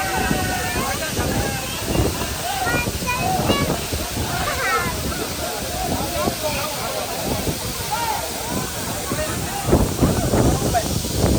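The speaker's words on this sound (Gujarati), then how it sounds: "આ છે અંજન કુંડ ધોધ." The Anjan Kund waterfall in the mountains, a loud continuous rushing roar heard up close with wind buffeting the microphone, while people talk over it.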